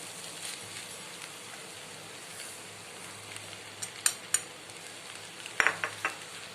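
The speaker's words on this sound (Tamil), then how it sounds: "முட்டை சேர்த்து நல்லா கலந்து விட்டுடலாம்" Egg being stirred into homemade wheat-flour noodles in a pan, a soft continuous scraping and sizzling with a few sharper utensil clinks near the end.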